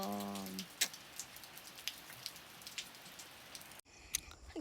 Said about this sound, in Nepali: पानी पर्यो के गर्ने होला अब